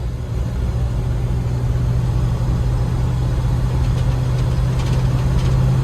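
A 1978 Jeep Wagoneer cruises on the highway, its engine a loud, steady low drone with constant road and cabin rumble.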